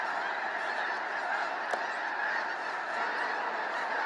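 Canada geese in winter flooded rice fields, a dense flock honking continuously, many overlapping calls blending into a steady nasal chorus at moderate distance with no voices present.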